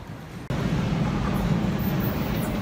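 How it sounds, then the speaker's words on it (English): Train rolling along rails on a bumpy ride near London, a steady loud low rumble that starts abruptly after a brief lower hum and continues without letup. "Here's a train coming."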